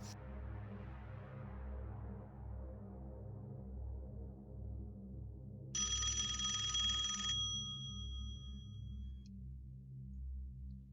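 A telephone rings once at the start of a phone call in the horror video game Five Nights at Tony's, a short bright electronic trill that cuts out sharply over a steady low droning background hum.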